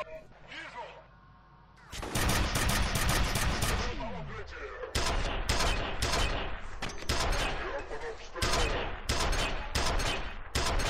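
Bursts of G2A2 assault rifle fire in the shooter F.E.A.R., loud rapid volleys repeating after a quieter opening, with heavy firefight noise throughout.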